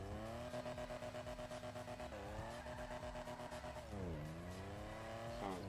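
A revving Stirling GT sports car engine in GTA 5, the pitch climbing and dropping with gear shifts, at a low level.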